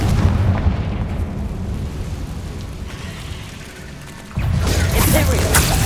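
A fire spell explosion goes off in Hogwarts Legacy on PS5: a loud, broadband blast over a rumbling, mechanical game backdrop, swelling abruptly near the end and holding at a steady roar.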